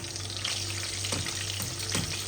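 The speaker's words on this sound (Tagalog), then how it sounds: "dapat low fire lang para hindi masunog yung itlog" An egg frying in a pan over low heat gives a steady, soft sizzle with faint crackles and small pops throughout. The sound is close and even, and no one speaks.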